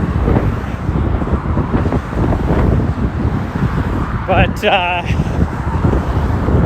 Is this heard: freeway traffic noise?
yes